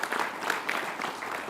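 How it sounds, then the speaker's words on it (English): An audience at a university athletic performance center groundbreaking ceremony claps in a steady wash of applause, moderately distant and filling the whole moment. "Let's give him a round of applause."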